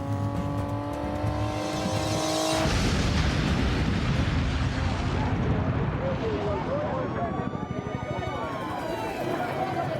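A truck bomb detonates at the US Embassy with a sudden massive roar that swells into a sustained, rumbling blast with debris noise, following a few seconds of quieter engine and background sound.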